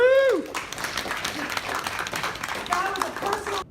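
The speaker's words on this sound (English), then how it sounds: "let's give Scott Fardulis a big round of applause" An audience at a business presentation in Sydney breaks into applause after a loud voice and a whoop, the clapping continuing under a voice and some music-like tones for a few seconds.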